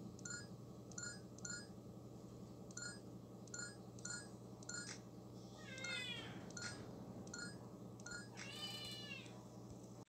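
A cat meows twice, clear, rising cries standing out over a background of repeating electronic beeps and a low steady hum.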